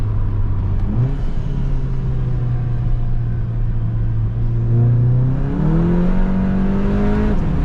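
A VW MK7 GTI on very sticky tires drives with a steady, loud engine drone that holds one pitch, then climbs as it accelerates near the end. Road rumble and tire noise run continuously beneath it, with no talking.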